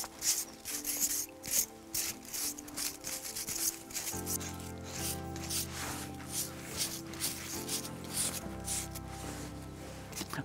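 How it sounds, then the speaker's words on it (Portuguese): Rough rasping and scraping as moss is worked off the trunks of fruit trees, steady rubbing strokes close up with no talk. "É feita uma raspagem dos troncos,"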